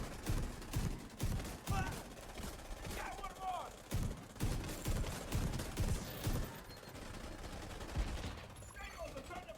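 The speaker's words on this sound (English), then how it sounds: "Just gonna shoot. Hope we hit something." Rapid bursts of gunfire from a shooter in The Division 2, repeated volleys and single shots spread through the scene with game effects, a voice speaking faintly now and then underneath.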